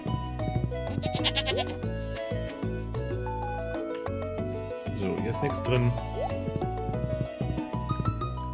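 Goat bleats from the farm in the video game Stardew Valley, short cartoonish calls over constant bright game music with chiming tinkles, repeated a few times at moderate loudness.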